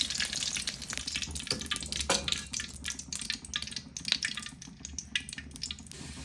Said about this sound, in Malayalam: അപ്പോൾ ഇത് ഞാനിപ്പോൾ ഓയിലാട്ടോ ഒഴിച്ച് കൊടുക്കുന്നത്